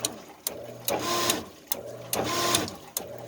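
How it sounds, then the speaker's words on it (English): Repeated sharp clicks from a faulty hot tub relay recur about every second against a steady electrical hum, the pump cutting in and dropping out with each click, close and fairly loud. "As you can hear, the relay is still clicking on and off."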